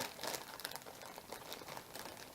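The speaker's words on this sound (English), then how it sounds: "Excuse me, this is rattling. It's in a plastic bag, that's why." A plastic Ziploc bag holding a knitting project crinkles and rustles continuously, close up and fairly quiet, with no talking.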